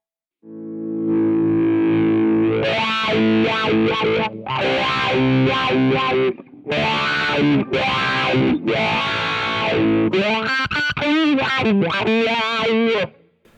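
Distorted electric guitar with a sweeping Amplitube 5 wah effect, phrases rising and falling in tone, loud and continuous with brief gaps between licks.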